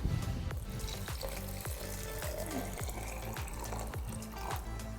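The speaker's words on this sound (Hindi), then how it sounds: "इसमें जाएगा ठंडा पानी।" Cold water is poured into a jar with jaljeera masala and lemon, making a continuous gurgling, splashing flow with repeated glugging pulses, close and fairly loud.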